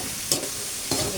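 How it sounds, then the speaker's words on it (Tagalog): Fried chicken feet for adobo being stirred in a sizzling pan, a steady close sizzle with two brief scraping stirs about half a second apart, no voices. "Ihalo ko lang na mabuti para yung recado kumapit."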